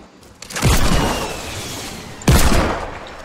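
Two loud rocket launcher blasts in the video game Fortnite, each a sudden heavy boom with a long rushing tail fading away, the second about two seconds after the first.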